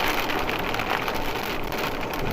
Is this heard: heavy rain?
yes